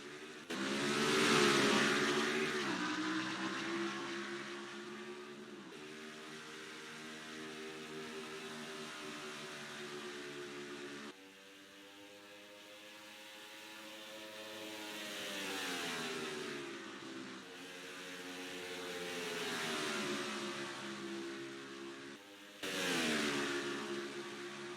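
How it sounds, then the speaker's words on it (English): Stock-car engines in a sim racing game at Minnesota, a pack of 24 cars climbing up through the gears in long rising whines that drop at each shift, loud and close, with a sharp surge near the end. "24 drivers up through the gears, and we're racing in the Dairy Queen 400 at Minnesota"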